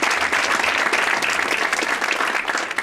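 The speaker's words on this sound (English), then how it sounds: "a beautiful round of applause to the Music Palooza group" An audience claps for the Music Palooza group, a full, steady round of applause from a crowd that holds a constant level from start to finish.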